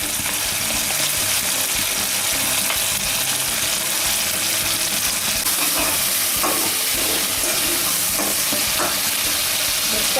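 Soy sauce and chili sauce with fried chips being stirred in a hot pan, a steady continuous sizzle and scraping of the mix running throughout at close range with no talking.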